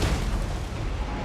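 Artillery fire from a Total War Warhammer battle rolls as a dense, continuous low rumble of booms, loud and unbroken across the whole moment.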